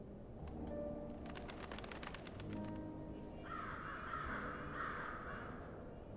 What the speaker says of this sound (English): Ooh, we hear crows.